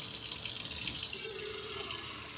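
Warm water pours steadily into a bowl of flour and grated cheese for yeast-free soda bread dough, a continuous close splashing trickle.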